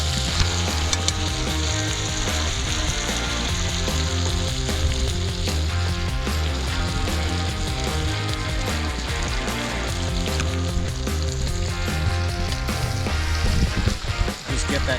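Steaks sizzle in garlic butter in a cast iron pan over a campfire in the Australian bush, making a loud, continuous, close crackling fry.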